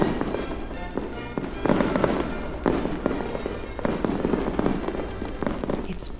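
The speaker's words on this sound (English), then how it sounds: "the firework display is about to start in a jiffy" A Bonfire Night fireworks display, synchronised with music, crackles and booms in repeated bursts and sharp pops, dense and fairly close, over a continuous rumbling backdrop with no clear talk.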